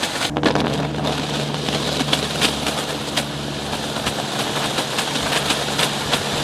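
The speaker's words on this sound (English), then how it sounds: "let the compressor refill" A steady mechanical drone runs without a break, an air compressor refilling while blowing out an inground sprinkler system, its motor chugging under a broad hiss with a low hum, up close.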